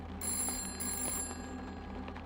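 A telephone bell rings in a steady, insistent trill, fairly close and clear, with a short break partway through and no voices over it.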